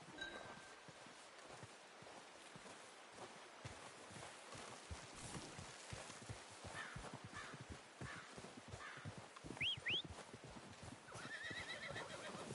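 Horse neighs and hooves clip-clop in the video game Red Dead Redemption, with steady footfalls throughout, a brief whinny near the end and crow caws mixed in the outdoor ambience.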